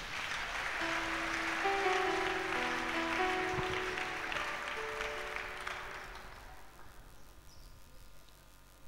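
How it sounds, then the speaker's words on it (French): A church congregation applauding the Lord Jesus during a sermon, a dense sustained clapping that rises, holds for several seconds and then fades out toward quiet. "Acclamons le Seigneur Jésus."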